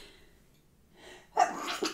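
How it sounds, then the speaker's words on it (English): A single sharp sneeze bursts out close to the microphone after a brief quiet intake of breath. "I feel like I'm going to sneeze."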